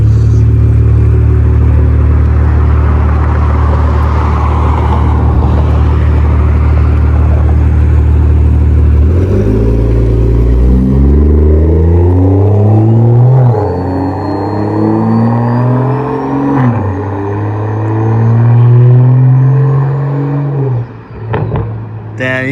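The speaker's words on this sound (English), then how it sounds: "So you can hear the full turbo." A BMW M340i turbo accelerating, heard from outside the car: a loud, deep engine drone that climbs in pitch through several rising sweeps, staying strong and continuous to the end.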